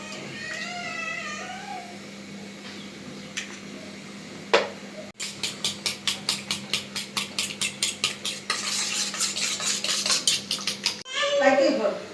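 A utensil beats eggs with onion and green chili in a bowl, giving a rapid run of rhythmic clinking strikes after softer scraping, with faint background voices and noise.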